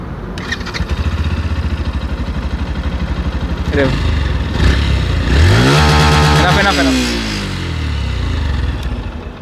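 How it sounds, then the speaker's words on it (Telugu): A 2024 Yamaha FZ-S V4 motorcycle idles with a loud, steady exhaust note, then is revved hard toward 7,000 RPM around the middle, the pitch climbing and falling back to idle, heard up close. "ఒకసారి బైక్ ఎగ్జాస్ట్ నోట్ చూద్దాం."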